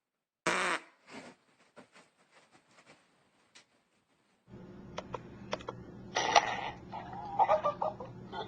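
A short, loud fart sounds near the start of an indoor pet scene. Faint taps and clicks follow, then a steady low hum with scattered knocks and squeaks.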